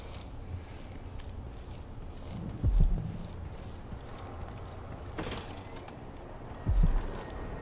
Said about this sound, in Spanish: Ah, coño, un caballo.